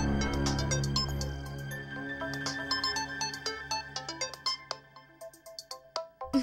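An incoming call sets off a mobile phone ringtone, a melodic electronic tune that starts with sustained tones and shifts into quick plucked notes, heard clearly and alone.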